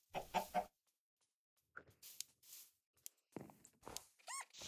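Chickens clucking in Minecraft, several short separate clucks and squawks spread across the stretch with quiet gaps between them, fairly close.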